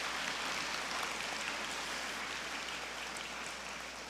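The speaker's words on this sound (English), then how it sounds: "So a round of applause." Audience applause fills a Holland College graduation ceremony hall, a dense, steady wash of many hands clapping that holds at an even level for the whole stretch without pause.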